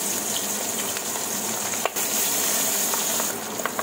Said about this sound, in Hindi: ऑयल हमारे बहुत अच्छे से गर्म हो गए हैं, तो अभी मैं ऐड कर दूंगी फिश 1 बाय 1 करके।